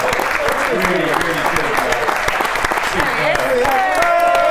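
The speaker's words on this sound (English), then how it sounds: "Everyone, round of applause for those guys from Superb." Wedding reception guests clap for the catering team, a steady dense applause with voices and a whoop-like call rising over it near the end.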